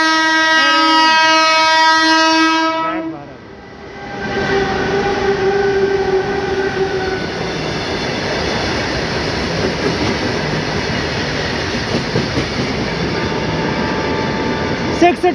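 A train runs along a railway line in India, its horn sounding steadily for the first few seconds before giving way to a loud, continuous rumble and rattle of carriages rolling past close by.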